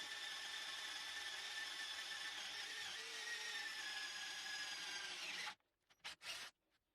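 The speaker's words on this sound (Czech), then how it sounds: "A na závěr jsem chtěl vyzkoušet vrtání do kovu, konkrétně toto je 6 mm tlustý ocelový plocháč." A Parkside PABH 20-Li C3 cordless hammer drill bores into 6 mm thick steel flat bar with a steady high grinding whine, sped up, then cuts off, followed by a few short bursts of drilling.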